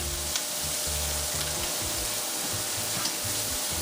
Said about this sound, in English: 2 onions. I only use 2 onions, okay? I know I showed 3, but I only use 2 in there. Cook these off until they're kind of brown.